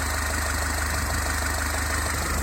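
A Ford Fusion 1.4 TDCi diesel engine idles while running with added hydrogen. It holds a steady, even chug with a constant mechanical hum and no knocks or sharp changes.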